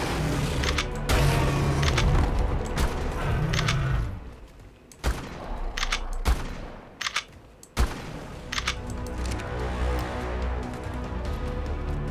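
Rapid gunfire from a weapon in the video game ARK: Survival Ascended, in a forest cave on Extinction, rattles loudly in dense bursts, then thins into a few sharp, separated shots over a rumbling background.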